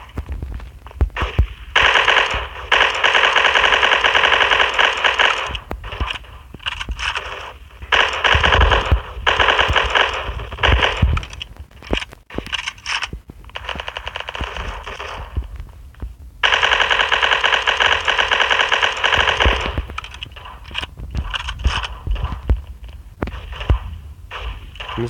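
Rapid automatic gunfire from the blocky online shooter Block Strike, loud bursts of continuous firing broken by short pauses across the whole stretch, with no talking.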